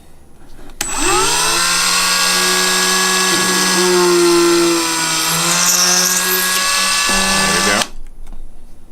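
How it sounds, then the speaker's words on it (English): A Dremel rotary tool set just above speed 10 drills a needle hole through a metal bar for a cloak pin and hoop clasp, a steady high whine for about seven seconds that starts and stops abruptly, with brief speech near the end. "And that's all we'll need the Dremel for."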